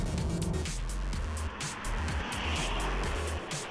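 A 2015 BMW 120i accelerates hard out of a hairpin on a track, its engine note droning loud and close with low rumble and brief dips as it pulls through the gears.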